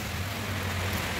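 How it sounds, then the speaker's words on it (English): Steady, close rainfall on a winter day makes a dense, even hiss with a low rumble beneath, continuous for the whole moment with no voices. "enjoy the peaceful rain"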